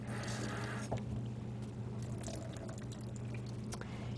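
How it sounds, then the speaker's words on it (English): Running water pours steadily from a kitchen tap as fruit is rinsed beneath it, a continuous close splashing wash with faint clinks, no talk over it. "I'm going to rinse these too"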